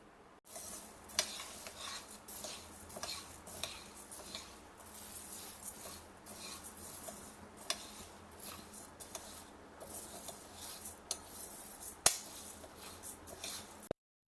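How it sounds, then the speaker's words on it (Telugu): Half a kilo of urad dal roasts slowly in a kadai over a low flame, with a soft dry rustling and repeated scraping stirs close by, no speech over it. "హాఫ్ కేజీ మినపప్పు కడాయిలో పోసి లో ఫ్లేమ్ మీద 20 నిమిషాలు వేయించుకోవాలి"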